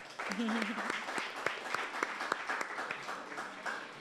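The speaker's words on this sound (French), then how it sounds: "nous vous demandons de les applaudir" An evening conference audience applauds two speakers, a dense round of clapping that starts with a brief voice over it and then continues alone at moderate loudness.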